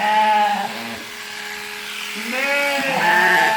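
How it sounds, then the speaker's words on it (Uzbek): Electric clippers shear wool from a sheep, a steady buzzing motor hum with sheep bleating loudly over it at the start and end. "Qo'ylar yungni olaman."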